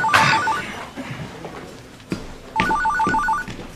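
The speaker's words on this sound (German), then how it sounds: "Lieber Dahlberg, das wäre jetzt zwar mein Telefon" A desk telephone in a police detective's office rings in two bursts of electronic trilling tones, the second longer, with some faint rustling and handling noise between them.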